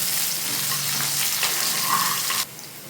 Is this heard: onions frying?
yes